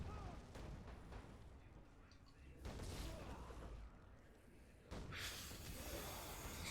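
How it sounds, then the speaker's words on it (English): In a Walking Dead video game, a fireworks store explodes and its fireworks go off in rough, noisy bursts of crackling blasts that swell at intervals, fairly faint and muffled, with a voice faintly underneath. "And the fireworks are going off."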